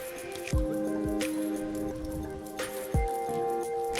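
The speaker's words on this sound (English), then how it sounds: "you only have to wait when the bubbling sound stops" Ink glugs and bubbles from a bottle into the tank of an Epson L3110 printer, sounding as a few distinct gurgling pops spaced a couple of seconds apart over a faint background tone.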